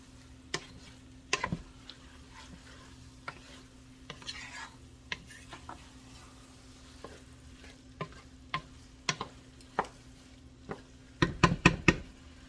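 A spoon scrapes and knocks against a pot as petite diced tomatoes are stirred into shrimp and sausage jambalaya, irregular taps over a soft simmer, ending in a quick cluster of louder clanks.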